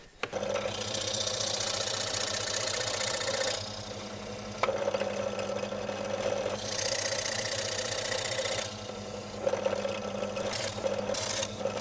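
A drill press motor hums steadily while the bit bores almost through a piece of wood, with grinding bursts that rise and fall as the cut starts and stops.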